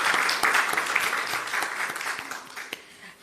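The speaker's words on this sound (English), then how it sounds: "So let us give another round of applause." An indoor audience at a health research conference award gives a round of applause, dense clapping that is loud at first and slowly thins and fades over a few seconds.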